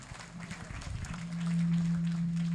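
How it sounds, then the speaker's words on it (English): Audience applause for a CEO named Tony at a career readiness and employability program launch, a brief burst of clapping fading into a steady low hum. "a round of applause for Tony"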